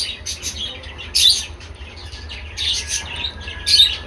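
Young adult cockatiels, five to six months old, chirp in a bird shop, giving several bright, short calls in scattered bursts over a low steady background hum.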